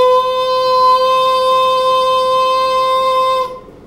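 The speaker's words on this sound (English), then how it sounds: "If I go into my upper chest register, it sounds like this." A man holds one bright, steady high note in his upper chest register for over three seconds, loud and close, with a strong ringing tone and no vibrato, then stops cleanly.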